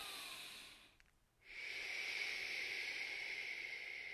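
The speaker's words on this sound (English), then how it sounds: "a little more quickly, but still making an SH sound" A long, forceful shushing SH exhale during a calming qi gong breathing exercise, steady and close after a brief pause, preceded by a fading earlier exhale.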